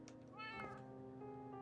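A pet cat gives one drawn-out meow that rises and then falls, quiet and close, with no talk over it.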